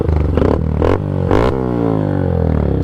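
A 2025 Honda Grom motorcycle with an aftermarket Zoom loop exhaust revs hard in several quick blips, its loud raspy exhaust barking, then winds down into a throaty, burbling idle.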